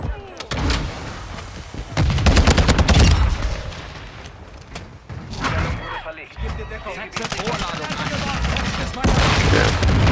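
Taq V battle rifle fire in Modern Warfare 2, coming in loud bursts of rapid shots with pauses between them, mixed with game noise and some talk.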